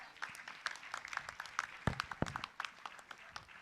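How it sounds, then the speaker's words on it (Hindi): Audience applause at a Jain Panch Kalyanak religious gathering in Madhya Pradesh, heard as scattered, uneven clapping with a few sharp, close claps standing out. It is moderately quiet and continues for several seconds. "एक बार जोरदार तालियां।"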